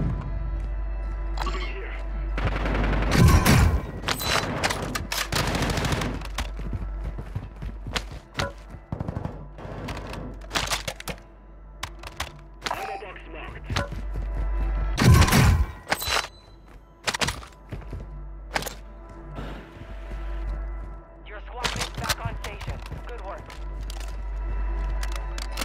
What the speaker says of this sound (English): Throwing decoy grenade.